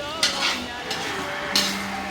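Steady sizzling of food frying in a pan, with a few brief scraping stirs breaking through at intervals.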